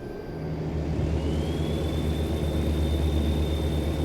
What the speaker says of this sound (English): Low flying plane.